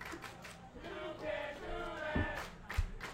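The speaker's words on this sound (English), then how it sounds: "the crowd is chanting about the white team knocking the hoop" Basketball arena crowd chanting in a steady, rhythmic roar behind the game, with a sharp clap-like hit near the end.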